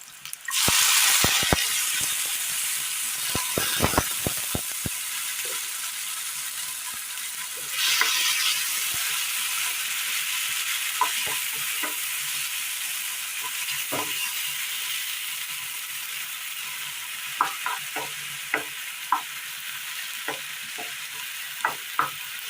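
Finely chopped tomatoes sauté in a hot pan for a Kerala beetroot dish, a steady sizzle running throughout, broken by a few sharp spoon scrapes and stirring clicks near the start and toward the end.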